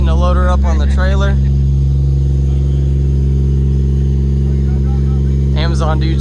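A loud, deep engine on a car with a TH400 transmission rumbles steadily throughout, close and heavy, while someone talks over it briefly at the start and end.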